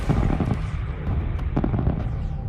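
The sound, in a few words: fireworks and beam lasers firing in video game Elite Dangerous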